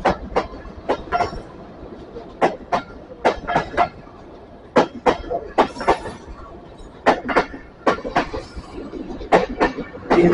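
A train passes at night with loud, rhythmic clickety-clack, as sharp wheel-on-rail clunks come in irregular pairs and bursts over a low rumble, close by.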